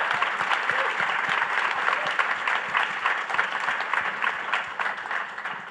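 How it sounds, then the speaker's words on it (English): A town hall audience in Virginia applauds the politicians who showed up, sustained even clapping from a crowd that tapers slightly toward the end. "they deserve a round of applause just for showing up and being here"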